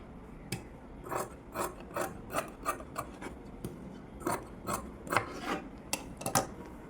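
Scissors cutting cloth for a blouse sleeve, heard as a series of close, crisp snips and rasping cuts, about a dozen spaced irregularly, with no talking.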